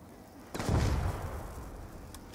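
A single M14 rifle shot in the Call of Duty Black Ops 2 Zombies game: one loud, sudden boom with a thick low-end punch that rolls off into a long, fading tail, heard alone.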